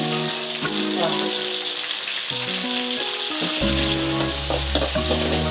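Pieces for gongura chicken fry in hot oil with a loud, dense, steady sizzle and crackle close up, while a person talks over the frying.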